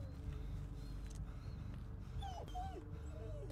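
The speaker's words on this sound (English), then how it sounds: "Dogs." Dogs whimpering and yipping in the horror video game Blair Witch, faint high whines that recur over a dense, low rumbling ambient background, with no talk.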